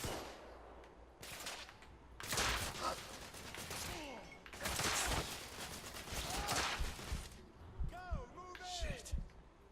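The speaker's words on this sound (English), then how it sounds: "I don't know where I'm getting shot from." Gunfire in The Order: 1886 video game: repeated bursts of shots and ricochets come in loud clusters, some close and sharp, with a suppressing barrage and scattered single cracks, under occasional talk.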